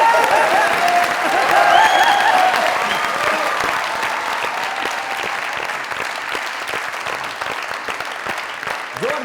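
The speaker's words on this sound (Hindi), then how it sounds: "जोरदार ताली।" A studio audience at a comedy talk show bursts into loud, dense applause that peaks early and then settles into steady clapping, with some crowd noise underneath.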